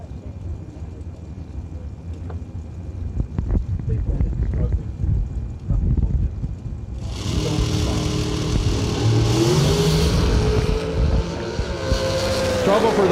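Dragster at a Christmas bracket drag race launching off the starting line in trouble, a loud broadband engine roar rising abruptly midway and holding to the end, with a rising engine pitch, after quieter rumbling track ambience.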